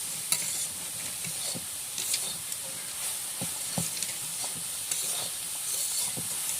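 Khesari (grass pea) greens fry in a pan under a continuous soft sizzle and hiss, while a spoon stirs them with repeated scraping strokes at an uneven rhythm, close and moderately loud, with no talk.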